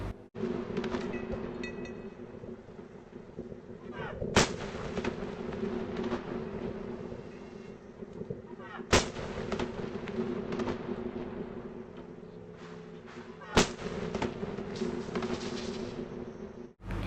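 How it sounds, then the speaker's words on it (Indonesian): Three loud booming blasts of ceremonial cannon fire in Brunei during Ramadan, spaced about four to five seconds apart, each sharp and echoing over a continuous rumbling background. "meriam-meriam itu akan ditembakkan, dikepuji dor gitu, meriam sekali"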